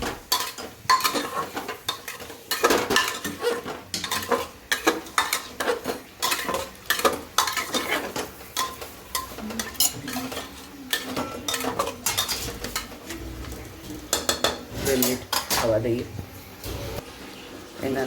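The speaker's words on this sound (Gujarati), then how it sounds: "બધું સાથે મિક્સ કરી લઈએ." A spoon scrapes and clinks against a pot while undhiyu masala is stirred into vegetables, the clatter irregular and close, with someone talking over it.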